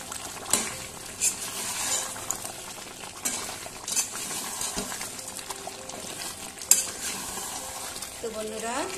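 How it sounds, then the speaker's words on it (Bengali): Kashmiri chili powder and meat masala being stirred in a frying pan, with scraping spoon strokes and a soft sizzle running steadily throughout, a few sharper clinks of utensil against the pan. "এবার ভালোভাবে নাড়াচাড়া করে নিচ্ছি।"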